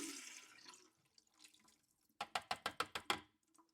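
Water rushes and spits from a carbon block filter housing as pressure is relieved after the supply is shut off: a hiss of release, then a run of six quick, sharp splashing bursts close by.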